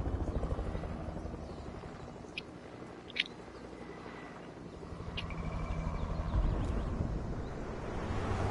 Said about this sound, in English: We got a kid in a helicopter.